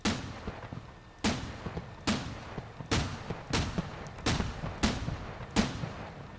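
Distant video game gunfire booms out in about eight separate heavy shots spaced roughly a second apart, each with a long rolling echo, and no voices are heard.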